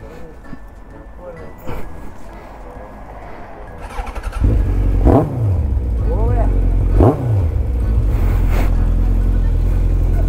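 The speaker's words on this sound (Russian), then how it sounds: "это Петрова мотоцикл. Прокатись, покажи" A motorcycle engine idles, then revs up loudly twice with rising pitch and pulls away, staying close and loud throughout.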